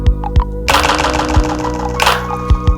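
Teenage Engineering OP-1 synthesizer with delay feedback set high, producing a dense, loud stuttering burst of repeated hits whose echoes keep ringing and trailing on after the note is released.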